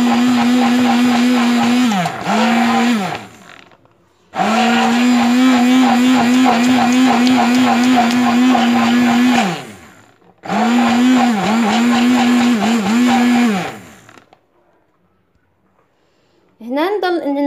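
An electric blender whirs loudly as it mixes a cheese spread made with buttermilk curds and oil, running in three long powerful bursts separated by short pauses before briefly starting again at the end.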